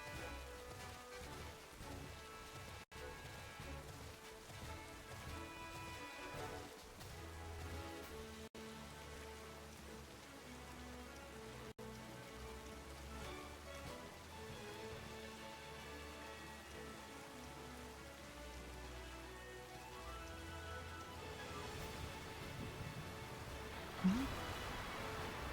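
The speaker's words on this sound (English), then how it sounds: "I all of a sudden hear rain." Rain falls in a steady, very quiet hiss that continues evenly throughout, with faint musical tones underneath.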